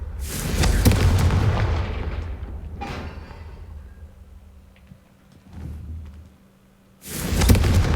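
Confringo fire spells from Hogwarts Legacy bursting in loud, booming blasts with rumbling tails, a heavy explosion at the start, smaller thuds midway and another strong blast at the end.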